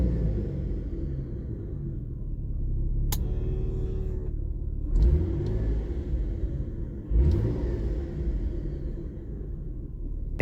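Mitsubishi 3000GT VR-4 engine revving, a loud steady rumble with two sharp rising revs, close and without speech.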